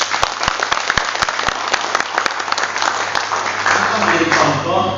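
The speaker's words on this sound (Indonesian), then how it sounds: "Tepuk tangan dulu." An audience at a regional Papua organisation congress applauds a governor's speech, starting with distinct sharp claps and swelling into a louder, denser wash of clapping as a voice begins speaking over it near the end.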